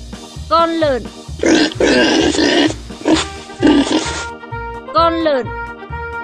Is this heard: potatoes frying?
no